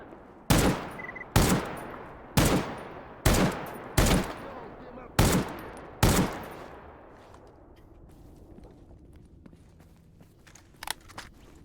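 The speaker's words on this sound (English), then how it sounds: "it's my first gunfight of the day" Gunfight in the S.T.A.L.K.E.R. Anomaly mod, seven loud, sharp gunshots about a second apart, each with a decaying echo, then quieter shuffling and a couple of faint distant shots.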